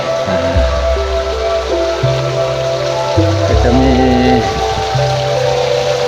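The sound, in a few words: waterfall at a forest temple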